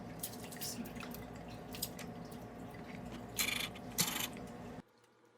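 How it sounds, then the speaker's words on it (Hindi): Milk and rice poured into a pot for shahi kheer, giving a soft, close liquid trickle with dripping and a couple of brief splashy bursts before it stops abruptly. "ये देखें, दूध डालेंगे, साथ ही इसके अंदर राइस डाल दें।"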